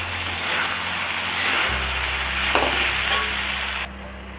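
Chicken, mushroom and broccoli stir-fry with sauce sizzles loudly in a pan, a steady hiss broken by brief stirring scrapes, with a low hum under it before the sizzle fades near the end.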